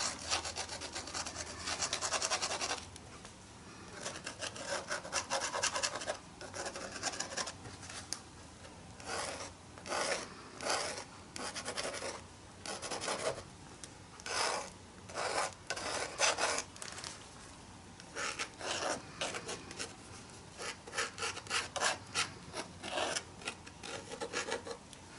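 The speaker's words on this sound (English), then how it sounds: "I'm going to take some of this green gold and just kind of rub it in here." Green-gold paint being rubbed into an art journal page, heard as soft, close, repeated rubbing and scraping strokes in an irregular rhythm, fairly quiet, with no talking.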